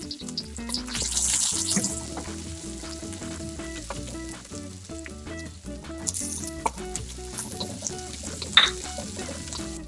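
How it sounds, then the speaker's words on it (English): Garlic and onions sauté in a pan for Hokkien meat glutinous rice dumplings, a steady close sizzle of frying with brief stirring scrapes and a few sharper clinks. "We first saute your garlic and your onions"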